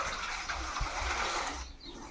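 Water pours steadily into a plastic carboy being filled, a continuous close gushing rush that changes tone near the end as the container fills.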